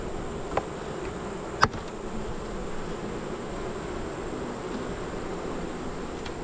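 Honey bees buzz steadily at the far end of an outdoor bee yard among the hives, a continuous low drone with a couple of brief clicks and no talking.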